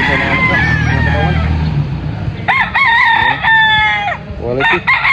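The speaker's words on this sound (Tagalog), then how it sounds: "ito yung pang-apat na bossing na stag na Boston cross sa kanawayan" A Boston cross Kanawayan stag crowing, a loud, close series of strained crows with a clucking fowl and a passing car in the background.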